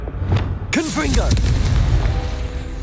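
Confringo fire spell in Hogwarts Legacy, a single sharp explosive boom that is followed by crackling, whooshing magical effects and a lingering rumble, with a voice briefly heard at the start.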